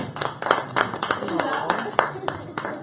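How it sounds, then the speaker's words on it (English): Small group clapping for a speaker at a lifestyle talk, uneven and fairly close, with individual claps audible and voices talking over the clapping. "Let's clap for you."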